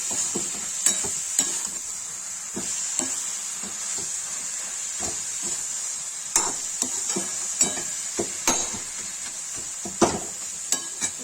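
Red amaranth greens (lal saag) frying in a pan for a Kashmiri-style vegetable dish, a steady close hiss and sizzle broken by scattered clicks and scrapes of stirring.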